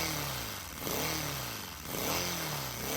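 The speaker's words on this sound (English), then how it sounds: "That sounds better than my car. That's a little Lego engine." A small Lego engine with a 3D-printed crankcase and no lubrication revs up, buzzing with a high mechanical whine that rises and falls in pitch through several revving surges, close and steady.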